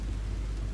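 Steady rain with a low rumble of thunder in Red Dead Redemption 2, an even wash of noise across the whole brief moment with no voices.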